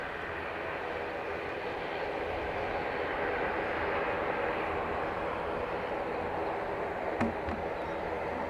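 An aircraft lands on a runway at Dublin Airport with a steady, broad engine roar heard from a distance. The noise holds at a constant level throughout, with no voices.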